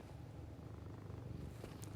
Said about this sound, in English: right, Clara, as you hear my cat purring